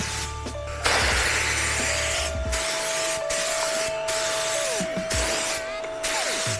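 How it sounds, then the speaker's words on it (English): A paint spray gun hisses steadily and loudly, producing dry spray, with brief pauses between bursts and a faint mechanical whine underneath. "I'm just getting dry spray out of everything."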